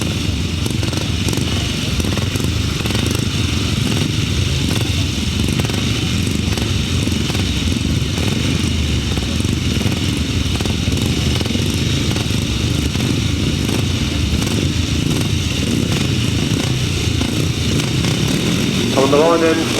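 Grasstrack racing motorcycles idling and revving together on the start line for a pre-75 race heat, a loud, steady engine drone filling the whole stretch with a rising rev near the end.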